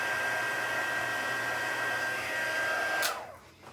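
A heat gun blows steadily close by with an even high whine while embossing powder is melted on a craft project, then switches off and winds down near the end.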